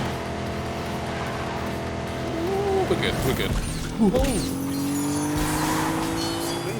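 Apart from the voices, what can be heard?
Ford V6 car engine racing in The Grand Tour video game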